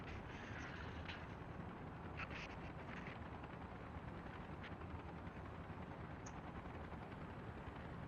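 Helicopters flying in the Soviet-era city-building game Workers & Resources: Soviet Republic, a steady dense rotor drone that holds at even loudness throughout with no talk over it.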